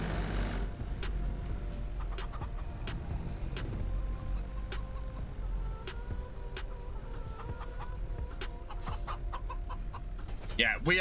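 Chickens cluck in short, scattered bursts at a farm in the Farming Simulator 25 video game, moderately near, over a steady low rumble, with a denser flurry of clucks right at the end.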